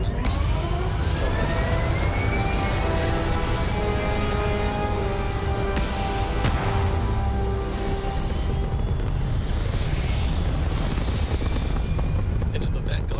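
A spaceship lifting off in the video game Starfield, a loud continuous engine roar with rumbling and sweeping tones, plus a sharp bang midway, with voices heard over it.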